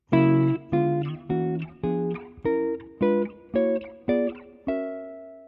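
Nine jazz drop 2 chord voicings strummed on the middle strings of a clean electric guitar in a steady rhythm, each ringing briefly before the next, the final one left to sustain.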